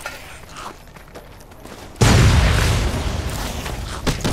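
Grenade blasts in the video game Fallout: New Vegas: a sudden loud boom lands midway and leaves a dense, roaring rumble that fades slowly. Softer thuds and scuffling come before it, and a smaller pop follows near the end.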